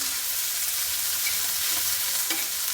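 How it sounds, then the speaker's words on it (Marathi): Chopped onion sautéing in a hot oiled pan for Kolhapuri thecha, a steady close sizzle and crackle throughout with a faint stir scrape near the end, no voices. "आपल्याला कांदा पण आता छानपैकी लाल होईपर्यंत परतून घ्यायचा आहे"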